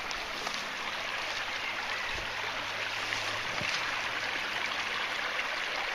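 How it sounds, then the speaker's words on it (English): Running water of a small stream beside old woodland, a steady close hiss and babble without pause, with a couple of faint low thumps. "Lovely stream there. Love the sound of running water."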